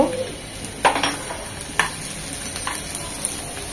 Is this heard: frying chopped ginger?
yes